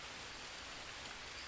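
Steady rain in the Green Hell video game falls as a dense, even hiss without breaks, close and continuous with no other sounds standing out.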